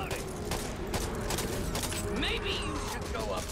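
Several sharp shotgun blasts ring out in the zombie shooter game Back 4 Blood, mixed with game effects and heard under players talking.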